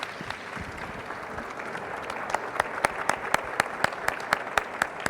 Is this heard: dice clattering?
no